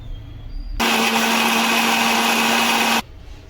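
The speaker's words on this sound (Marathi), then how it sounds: "तर हे वाटण आपण मिक्सरला लावून घेऊया आता." A kitchen mixer grinder whirs at high speed for about two seconds, loud and close and without a break, grinding a roasted tomato, onion and dried coconut masala paste for a Marathi fish curry.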